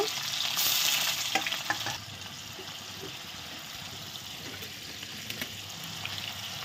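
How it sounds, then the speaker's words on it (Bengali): Steady, close sizzling of paneer frying in a pan, with occasional soft scrapes and clicks of stirring and no talking. "এখন আমি পনিরটা ভেজে নিচ্ছি, একটু লবণ হলুদ ছাড়াই ভেজে নেব"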